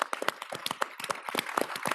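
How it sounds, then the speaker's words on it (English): Applause for event staff at a US-Japan policy dialogue, heard as sparse, distinct handclaps from a small audience, fairly close and uneven in rhythm over two seconds. "So if you'll join me in giving them a round of applause."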